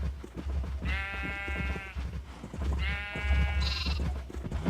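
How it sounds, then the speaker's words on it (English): Two clear sheep bleats from Minecraft, each a drawn-out wavering call standing out over a steady low background rumble, the second slightly higher at its end. "We need more sheep."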